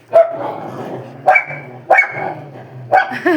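A dog barks four times in quick, sharp bursts, loud and close, with short gaps between barks and no talking.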